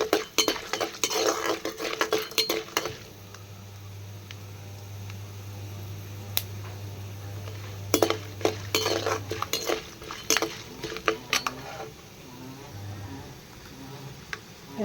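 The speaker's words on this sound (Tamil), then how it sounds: "நல்லா மொறுன்னு வறுக்கும்." Chana dal and urad dal roasting in a pan, with a spoon scraping and clinking against the metal in irregular bursts over a low steady hum, loud at first and then sparser.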